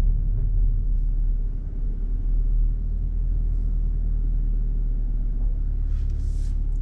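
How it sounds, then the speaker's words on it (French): A car engine with a V8-like character heard from inside the cabin gives a steady low rumble, loud and close, holding an even drone throughout with no talking. "J'ai l'impression de conduire un V8 américain tellement ça redonne le son dans l'habitacle."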